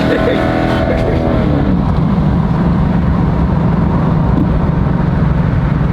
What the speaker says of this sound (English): He tried to do my little downshift.